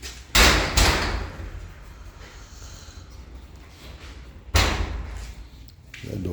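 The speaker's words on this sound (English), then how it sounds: "That door's stuck." A stuck door in a garage is forced open during home repairs, with two heavy thuds and scraping bangs close by, then a quieter stretch and another loud thump.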